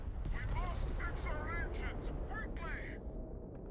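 Turret gunfire in the video game Starfield makes a dense, continuous rattle of shots beneath someone talking excitedly.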